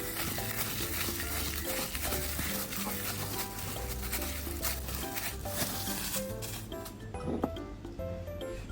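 Dumpling filling of pork and shrimp with soy sauce, sugar and sesame oil is stirred and mixed, giving steady wet squelching and scraping. The sounds are close and continuous, with someone talking softly at times.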